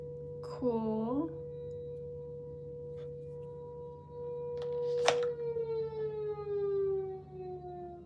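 Town civil defense siren sounding its daily noon alarm, a steady wailing tone that swells and holds across the whole stretch, with a brief rising chirp near the start and a sharp click midway.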